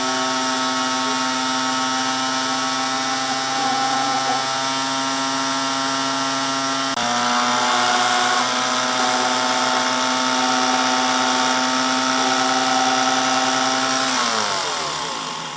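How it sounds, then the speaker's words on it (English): Unimat lathe running at 1700 RPM, a steady high whine with strong tonal hum, loud and close, shifting pitch midway and winding down at the end. "I forgot to mention that I am running the machine at 1700"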